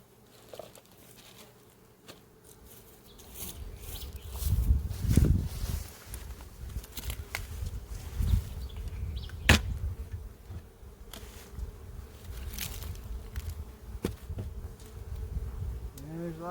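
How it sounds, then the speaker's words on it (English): Bees from an open backyard beehive hum and buzz steadily at close range while it is smoked and opened with a hive tool, with soft handling taps and crinkles; the hum swells in the middle and stays continuous throughout. "There's lots of bees moving around in here."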